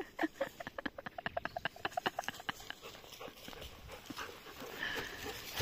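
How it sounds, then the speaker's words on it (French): Dogs at play make a quick run of short rhythmic grunts and huffs, close and moderately loud, easing into softer panting and rustling over a faint outdoor hiss. "Et là, c'est les grognements de jeu."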